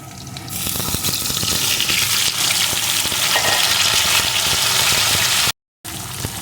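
Potatoes and pointed gourd pieces fry in a hot pan, a steady loud sizzle with scraping stirs running throughout, broken by a brief dropout near the end before the crackle resumes.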